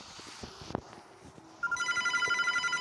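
A telephone in a horror video game set in a mental hospital starts ringing partway through, with a steady repeating electronic trill after some quieter scraping and footstep-like sounds.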